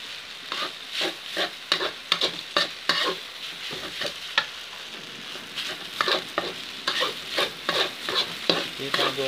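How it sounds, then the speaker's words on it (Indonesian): Cooked rice being stir-fried in a pan with shrimp-paste chili sambal for Indonesian village-style nasi goreng, a steady sizzle broken by repeated scraping and tossing strokes of the spatula, close and alone. "Kita goreng sampai matang ya."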